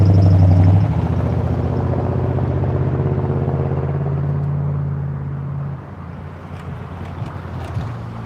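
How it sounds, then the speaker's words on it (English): Truck rolling past near railroad tracks in Chattanooga, a loud low rumble and whine that fades as it moves away, leaving wind noise and faint background clatter. "That's a pretty truck."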